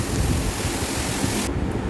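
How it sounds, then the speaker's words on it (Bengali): Steady heavy rain falls outside a balcony as a dense, loud wash of noise that drops away slightly near the end, with no voices. "তাও আবার বৃষ্টি শুরু হলো"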